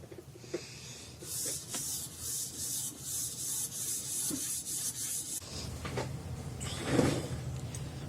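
Steel knife blade stroked along a 3000 grit ruby ceramic stone in a Hapstone convex rod adapter, giving steady close rasping strokes that rub back and forth repeatedly with brief pauses, alone without talk.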